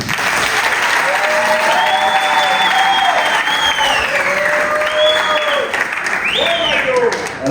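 Audience applause at a ceremony held by Rwandan students marking Liberation day, a loud, steady wash of clapping throughout with voices and cheering mixed in over it.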